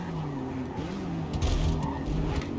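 Car racing in Forza Motorsport, an NSX in open class, with another car braking hard: a loud, steady engine drone carries tire squeal and skidding noise, swelling briefly midway.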